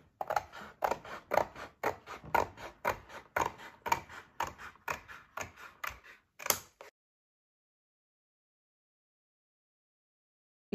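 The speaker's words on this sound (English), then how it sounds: "we're going to be using a pair of scissors and just carefully cut along" Scissors snip through paper strips for a moon helmet craft, a steady run of about twenty crisp, close cuts in quick rhythm before everything goes silent.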